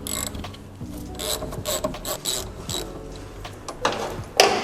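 A ratchet undoing a 9/16 nut on a Triumph TR6 anti-roll bar link rod, rapid close clicking bursts in short uneven runs with brief pauses and a sharper metallic knock near the end.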